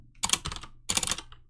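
Fingers type on a computer keyboard in two quick bursts of close, crisp key clacks separated by a short pause, with no talking.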